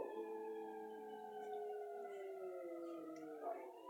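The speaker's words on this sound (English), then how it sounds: "It's a siren or something." A wailing siren with a long, steady tone that slowly falls in pitch, heard at a distance with a faint rise near the end.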